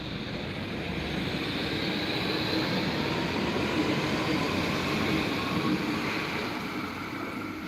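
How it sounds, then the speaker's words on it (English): A train rumbles past steadily for several seconds, a continuous close wheel-and-rail roar holding an even level throughout with no speech over it. "Say bye-bye to my favorite train."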